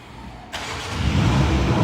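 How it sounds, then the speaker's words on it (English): A 2020 BMW M235i xDrive Gran Coupé (F44) engine starts by remote, a sudden ignition burst settling into a steady low idle rumble, close by and with no talking. "And that's your car starting up."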